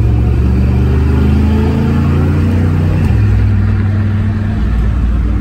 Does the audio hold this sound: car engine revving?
yes